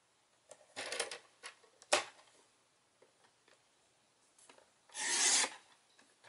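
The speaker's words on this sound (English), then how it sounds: "Next, we'll cut our half sheet of Sweet Sugar Plum" Sweet Sugar Plum cardstock, a half sheet, being sliced on a paper trimmer: a few short rasping strokes close by, with a longer, louder swipe near the end and quiet gaps between.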